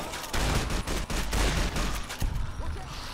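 Loud, dense gunfire in the video game Fallout New Vegas, a volley of overlapping shots across the whole short stretch.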